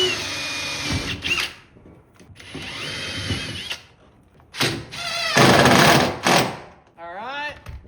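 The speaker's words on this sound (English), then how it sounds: "now we can go ahead and throw our screws in it" Power drill driving screws into a seat fitting on a homemade trash-built boat, several short whirring bursts of varying length with pauses between, close and fairly loud, with a rising whine near the end.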